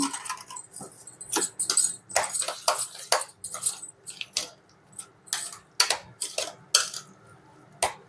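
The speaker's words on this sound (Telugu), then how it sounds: "సరిపడినంత సాల్ట్ వేసుకొని మిక్స్ చేసుకోవాలి." Curd rice with salt is mixed in a bowl by hand or spoon, producing close, intermittent clinks and wet scraping strokes in irregular bursts with quiet gaps between.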